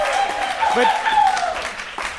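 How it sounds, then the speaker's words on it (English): Audience applause on a podcast recording, brief and fairly soft, sitting under a host's continuing speech. "How about a round of applause for Sean Hatton?"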